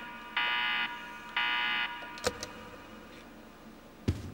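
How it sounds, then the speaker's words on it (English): A game alarm in Resident Evil Code Veronica X sounds as two loud, steady electronic buzzer tones, each about half a second long, followed by a few sharp clicks and thumps. "Alarm. Not good."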